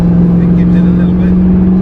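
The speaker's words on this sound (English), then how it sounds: "A nice deep burble from the V8." A 2002 Camaro SS V8 pulling away under throttle, giving a loud, steady, deep burble that drones close by without break and has no speech over it.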